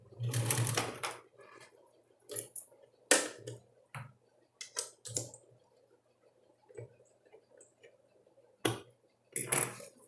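A sewing machine stitches the seam of a double-sided diaper cover in short close bursts of rapid whirring, separated by quiet pauses.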